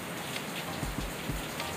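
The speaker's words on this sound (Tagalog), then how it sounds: "At medyo malakas ang ulan ngayon dito sa atin." Heavy rain pours down steadily in a dense, hissing patter, with a few louder drops thudding close by and no talking.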